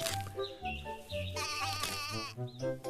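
Goats in an animated story bleat in a lively overlapping chorus of short wavering cries, close and fairly loud, with no talk.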